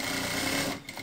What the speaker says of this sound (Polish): Na tej 40 bez problemu maszynka szyje.